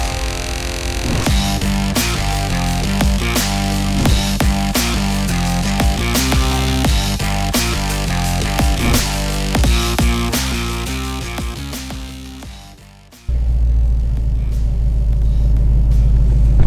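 A Ford Mustang GT engine rumbles loudly and steadily for most of the clip, with a rhythmic pulsing pattern, dips briefly, then returns as a heavier, broader roar near the end.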